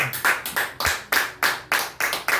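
A church congregation claps in steady unison, eight or nine sharp, even beats filling the room, with no voices over the applause.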